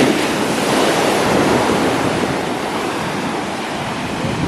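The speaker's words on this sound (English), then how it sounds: "The sea is really rough, y'all, like very, very rough" Rough sea surf pounds the shore in Jamaica, a loud, continuous wash of breaking waves with wind buffeting the microphone, no voices heard.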